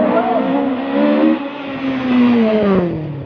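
A red toy race car's engine revs in a sustained, buzzy whine that rises and falls over a few seconds, fairly loud and close, with no talking over it.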